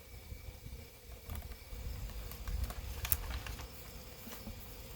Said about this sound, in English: Hate wasps.